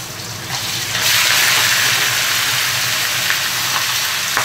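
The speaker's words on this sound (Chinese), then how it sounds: "鸡下锅。" A brief lull, then pieces of chicken hit hot oil with ginger slices in a small pot and a loud, steady sizzle rushes up and keeps going close by.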